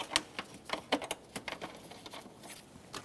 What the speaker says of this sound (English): start in the mounting bolts, and snug them up